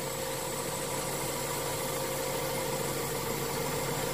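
A car engine idles steadily and close by with a constant hum and faint vibration; the engine is running rich and has a fluctuating idle and a faulty upstream oxygen sensor.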